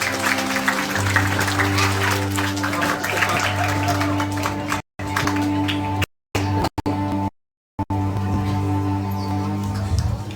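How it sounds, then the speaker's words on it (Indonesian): Applause from an audience at the opening of a church youth camp, a dense crackling patter held steadily for several seconds over a sustained musical drone, with a few abrupt dropouts to silence. "Kita kasih aplaus."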